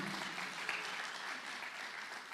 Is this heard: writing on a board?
no